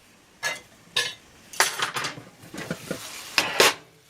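Fried liver and onions with garlic and hot sauce are dished up from a pan, with a series of close metallic scrapes and clinks from utensil against pan and plate, coming in irregular bursts without speech.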